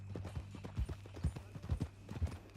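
Horse hooves clip-clopping in the Red Dead Redemption 2 video game, a steady walking rhythm of soft thuds, moderately near but quiet, with low background tones and no clear talk.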